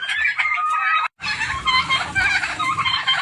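Turkeys and chickens on a small farm cluck and gobble restlessly at feeding time, a dense, continuous flock chatter close by with one very short break.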